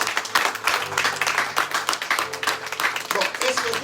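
Congregation in a church service applauding, brisk rhythmic clapping from many hands, fairly close and steady, with voices mixed in beneath.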